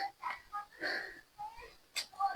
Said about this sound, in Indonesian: Kita ngos-ngosan